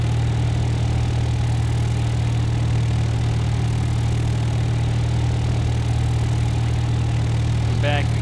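A light aircraft engine hums steadily at 1,300 RPM during a descent in a flight simulator game. The drone stays constant and fairly loud, with a brief faint chirp near the end.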